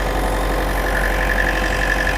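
A Ford Figo Freestyle diesel engine idles close by with its radiator fan running, a loud, steady mechanical drone with a constant whir on top and no speech.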